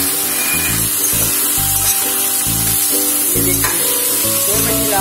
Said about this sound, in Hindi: फुल आंच पे ऐसे फ्राई करना है सिर्फ 5 मिनट के लिए